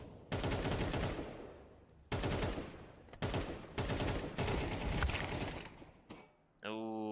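AK rifle fire in a competitive video game match, several loud bursts of rapid shots separated by short pauses, with a caster talking over the action.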